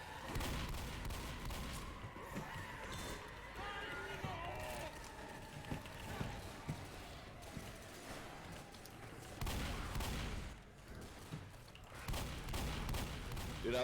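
Shotgun blasts in the Left 4 Dead video game, scattered booming shots among game noise and chaotic action, with people talking over the play.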